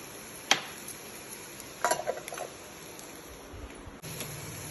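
Potato masala sizzles softly in a pan, with a few sharp metallic scrapes and clinks from a spatula as it is stirred, then a louder frying hiss near the end.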